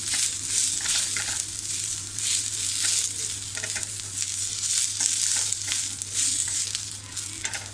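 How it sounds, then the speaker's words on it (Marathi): Garlic cloves and ginger sauté in hot oil in a pan, giving a steady close sizzle with scattered stirring scrapes and a low hum beneath, no voices. "आता त्याच्यामध्ये या लक्ष्मीच्या पाकळ्या आलं हे सुद्धा आपण छान थोडंसं परतून घेऊया"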